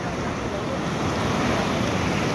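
Ocean surf breaks at a fishing spot as waves wash over, a steady, loud rushing roar with wind buffeting the microphone throughout.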